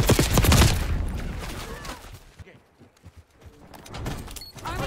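Bursts of gunfire in Call of Duty Black Ops 6, loud rapid shots at the start and again near the end, with quieter game sounds between and a player talking over it.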